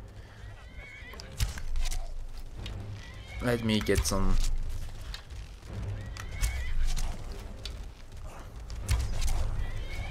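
Horse in the Skyrim video game, set amid a zombie fight: a loud, close whinny rises in the middle, surrounded by hoof clops and scuffling combat noise, while someone talks over it.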